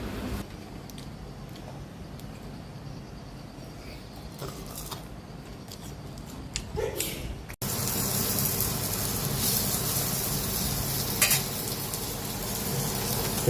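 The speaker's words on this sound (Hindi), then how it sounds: "ये अरबी के पत्ते का जो पतरोड़ा था वो काट के ऐसे फ्राई करते हैं।" Sliced patrode, rolls made from arbi (taro) leaves, frying in a pan, a steady hiss that jumps louder midway as the pan comes close, with occasional clinks and stirring.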